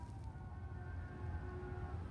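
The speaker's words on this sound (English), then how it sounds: "You hear the sirens?" Distant sirens heard from a home garden, thin steady tones drifting faintly over low background rumble and hiss for the whole short stretch, with no talking.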